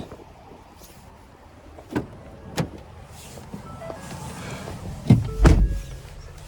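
Someone climbs into the driver's seat of a 2013 Ford Edge Limited, with a couple of soft thumps and rustles, a brief motor whir and a heavier thud near the end, all close by with no talking.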